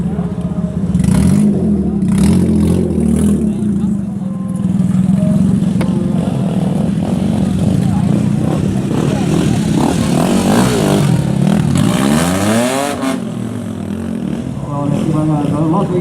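A motorcycle engine revs and roars nearby at a drift event during a Riga festival, rising and falling continuously under a loud announcer's voice.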